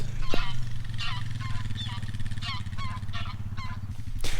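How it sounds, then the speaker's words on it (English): Noisy geese honking on a farm during lambing season, a run of repeated loud honks over several seconds above a constant low engine-like rumble. "There's some noisy geese."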